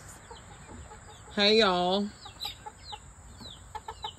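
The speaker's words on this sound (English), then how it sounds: "Look at all these crazy ass chickens." On a homestead, a chicken lets out one loud, drawn-out call amid softer clucks and chirps around it, and a person briefly speaks.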